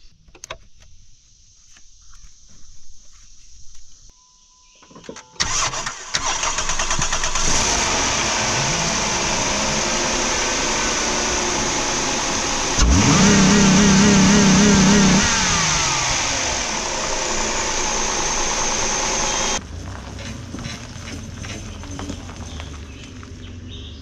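A diesel engine on a stupid-project build catches with a sudden start, then settles into a loud, steady idle with a brief rise in revs partway through, close and continuous without speech.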